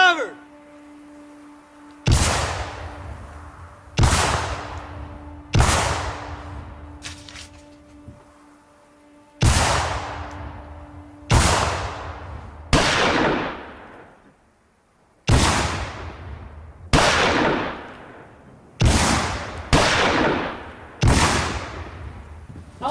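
Gunfire in a Western shootout: about ten loud, sharp gunshots ring out close by, singly and in quick pairs, each trailing off in a long echoing decay, with a low steady hum beneath the first half.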